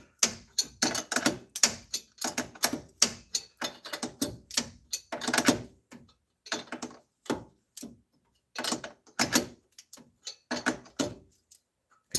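Ratchet wrench cranking a bolt on the valve cover of a 1996–2005 Chevy Astro engine, giving close, loud bursts of rapid clicking in uneven strokes with short pauses between them.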